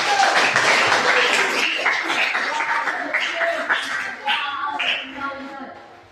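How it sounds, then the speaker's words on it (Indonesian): Audience applause for group 1 at a classroom session, a dense burst of clapping mixed with voices that starts strong and gradually tapers off. "Kasih tepuk tangan untuk kelompok 1."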